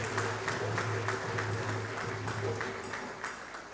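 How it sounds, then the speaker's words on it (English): An audience at a land surveying seminar claps to welcome the session chairperson: dense, even applause filling the room over a faint steady hum. "Please help me welcome our chairperson for the opening session, Surveyor Reverend Rose Margaret Isubontin, with a round of applause."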